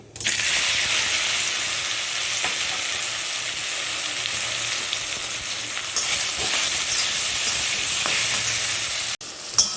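Jujubes fry in a pan with a loud, continuous close sizzle and hiss that holds steady for nearly ten seconds before cutting off briefly near the end, with no talking.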